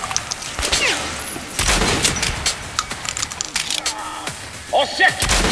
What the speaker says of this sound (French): On encaisse des tirs!